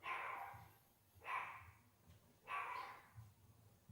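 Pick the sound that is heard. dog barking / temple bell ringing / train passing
dog barking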